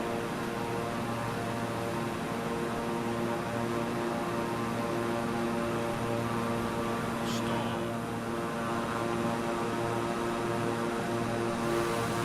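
A propeller aircraft engine in a Wolfenstein video game drones steadily and loudly throughout, a constant buzzing hum with layered harmonic tones and a faint hiss, briefly joined by a short higher whine near the end.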